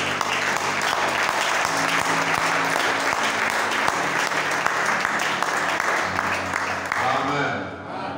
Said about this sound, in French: On applaudit pour le pasteur.